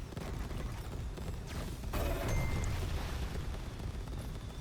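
Geyser explosion spells in the game Far Far West erupt in a dense, overlapping barrage of booms and crackling blasts, with a sharper burst near the middle and gunfire-like pops running underneath.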